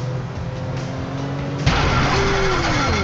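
A boat engine in GTA 5 drones, then abruptly sputters and shifts pitch into a rougher, strained whine as it fails, with a few low synthetic tones sliding down.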